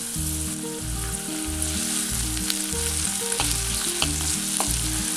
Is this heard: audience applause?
no